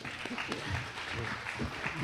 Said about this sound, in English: You can give him a round of applause, too.